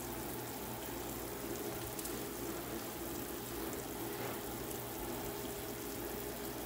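Cold running water washing a large batch of Apache blackberries, a continuous splashing gush from a tap into a container, steady and close with no talking.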